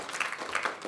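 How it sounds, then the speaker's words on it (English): A brief burst of applause at a dinner and discussion event, many hands clapping in a dense, even patter from a room full of people, slightly distant. "I think we should give Ed another round of applause"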